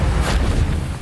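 A Confringo fire spell goes off in the Hogwarts Legacy video game, a loud, close, rumbling blast that fills the whole second with deep booming noise.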